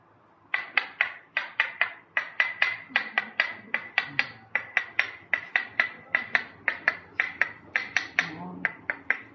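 Light, even tapping of a metal stamping tool punching fine decorative lines, around thirty crisp close strikes in a steady quick rhythm with brief pauses, over a faint low room hum.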